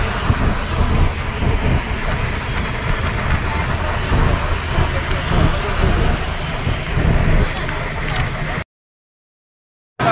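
Riding a bus just outside Mathura station: a loud, constant engine rumble and road noise fill the cabin for most of the stretch, then cut out abruptly near the end.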